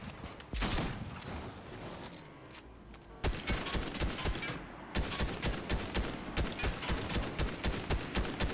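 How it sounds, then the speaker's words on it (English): Ranger shotgun blasts in Fortnite: a burst of loud shots, then a rapid, evenly spaced series of heavy booms fired in quick rhythm, close and dominant with little talk. "That ranger shotgun is, well, very effective."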